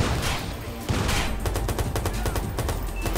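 Rapid gunfire in Watch Dogs, a dense fusillade of sharp repeated shots in quick bursts over a constant rumbling game backdrop, loud and close.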